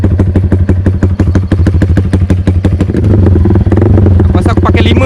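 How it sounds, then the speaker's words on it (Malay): A tuned motorcycle engine idles loudly up close with a rapid, lumpy putter, the revs shifting slightly partway through. "ada bunyi macam idling tu turun banyak"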